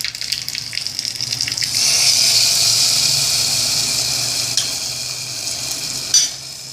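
Neem flowers drop into hot tempering oil with dried red chillies for mango pachadi. After a quieter start, a bright, steady sizzling hiss swells and holds close by, with a few small clinks.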